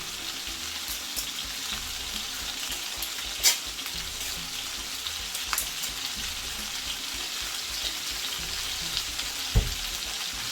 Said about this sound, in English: Can you hear that sizzle? So you just want to fry it for a little bit.